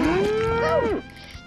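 Cow in the video game Conker's Bad Fur Day gives one loud, drawn-out moo with a falling bend at the end, alone and close, over a steady game background.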